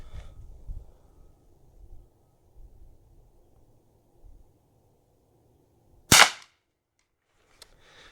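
A single sharp rifle shot from a 120-year-old Stevens Little Scout Model 14 cracks out loud and close, followed by a faint metallic tick, with quiet outdoor rumble before and after.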